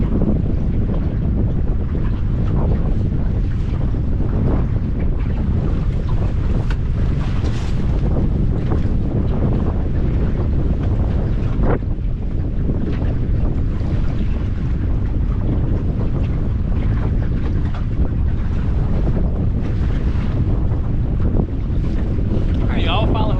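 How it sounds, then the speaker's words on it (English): Strong wind roars steadily across an open mic on a boat out on the water on a cold, windy day while catfishing, a constant rushing buffet with faint water motion beneath and no break. "It's supposed to be windy and it's cold today"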